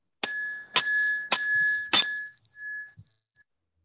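A ritual bell in a consecration of magical materials rings four times, evenly spaced, each strike a bright clear ding with a ringing tail, the last one left to fade into quiet.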